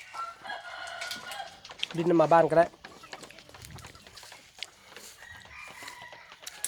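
A decoy rooster crows once at close range, a loud harmonic call of under a second, with someone talking before and after it.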